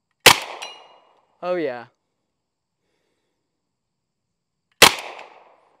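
An M1 Thompson submachine gun fires two single loud, close shots several seconds apart, each trailing off in a short echo, with someone briefly speaking in the quiet between them.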